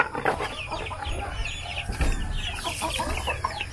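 Chickens cluck and squawk continuously nearby, several birds overlapping in a busy, chattering farmyard chorus with no talking.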